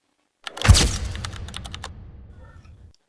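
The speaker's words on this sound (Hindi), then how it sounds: "एक बार क्लिक करने के बाद आपको अपने कीबोर्ड से एंटर कुंजी को प्रेस कर देना है।" A single sharp click of the Enter key being pressed on a computer keyboard, close and alone, with a short rattling decay after the strike.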